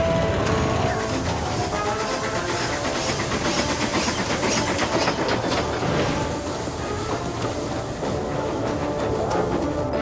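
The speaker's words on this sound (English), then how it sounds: "I've been told by Diesel to shunt you inside" A die-cast toy train engine shunts along rails, giving a continuous rolling clatter and rhythmic clickety-clack throughout, with no voices.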